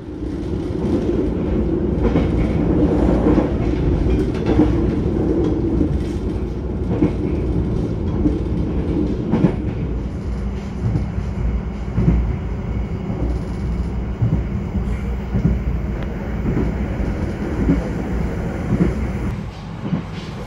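The Ambarawa Ekspres passenger train runs on rails with a loud steady rumble and rhythmic clatter from the wheels, heard from on board throughout with no talking.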